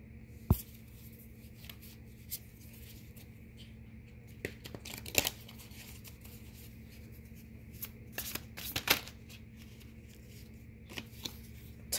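Tarot cards being shuffled for a reading: soft riffling and papery slaps recur in uneven bursts over a quiet room tone, with a few sharper card taps standing out near the start and middle.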